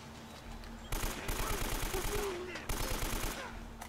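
Automatic gunfire in the video game Uncharted, two bursts of rapid shots over a low game soundtrack, heard through game audio at moderate volume.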